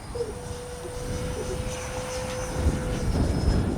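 A small Freewing 70mm Yak-130 RC model jet whines overhead on a windy day with a sustained high tone, its engine noise swelling slightly as it passes, gear down, wind rumbling underneath.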